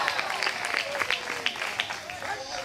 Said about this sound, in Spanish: De repente ese aplauso al Cristo de la gloria,